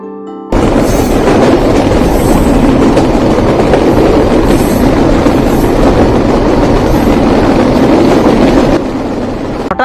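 Inside a coach of the Rupsha Express intercity train in Bangladesh, a loud, steady roar of wheels and rumbling carriage noise runs without a break, with a faint rhythmic clatter and no voices.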